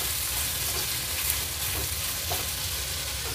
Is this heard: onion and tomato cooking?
yes